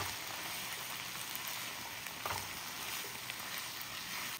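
Tomatoes, three jalapeños and two serranos sizzle steadily in a hot pan for a chicken curry, a continuous even crackle and hiss with no talking.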